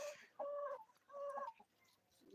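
Two clear clucking calls from tiger chickens on a poultry farm, close and fairly loud, with short pauses and quiet farmyard background between them.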